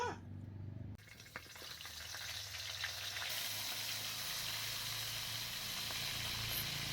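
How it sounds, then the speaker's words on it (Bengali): Tengra fish hit a hot kadai, and a loud, steady frying sizzle and crackle builds within a second, then holds continuously to the end with no talking. "গরম কড়াইয়ের মধ্যে সব মাছগুলো ঢেলে দিচ্ছি। ট্যাংরা মাছ ভেজে নেব।"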